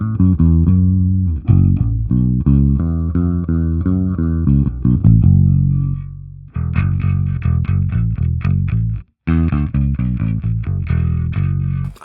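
Electric guitar run through a Line 6 Helix and shaped to sound like a bass, playing a continuous riff of loud, deep, distorted, crisp notes with a short break near the end.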